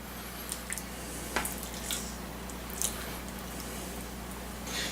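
Raw chicken breast goes into a bowl of marinade seasoned with cumin, black pepper and sea salt for cilantro lime chicken, giving soft wet squishes and small drips, faint and close over a steady hum.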